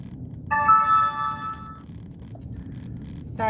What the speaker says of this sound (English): my phone goes off every 5 seconds because of work.